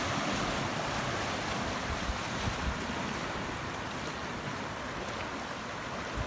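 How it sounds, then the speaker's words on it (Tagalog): Steady ocean surf rolls onto a beach in San Antonio, Zambales, a continuous broad wash of breaking waves with wind noise across the microphone. "ang ganda ng alon, no?"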